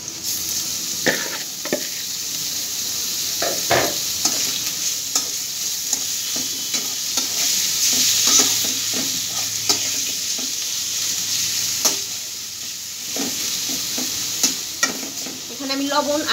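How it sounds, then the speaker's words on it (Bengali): Meat sizzles steadily in a hot pan while being stirred, with the hiss running throughout and punctuated by repeated scraping knocks of the spoon against the pan. "এখন আমি এটার সাথে মাংসগুলো ভেজে নিব।"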